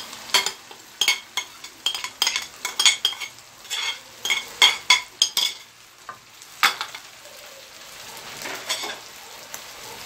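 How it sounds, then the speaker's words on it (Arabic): Onions and vegetables stirred in a pan with beef for shawarma, bursts of sizzling and repeated metal spoon scrapes and clinks in an uneven rhythm, close and fairly loud, easing off toward the end. "بقلب كويس لحد ما البصل يتدبل شوية، مش كتير"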